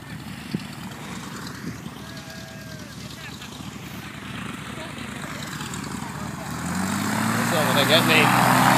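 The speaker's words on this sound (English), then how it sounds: "There's an airplane." A propeller airplane passes overhead at a skydiving drop zone, its engine drone faint and distant at first, then swelling steadily louder toward the end, with outdoor ambience and occasional voices.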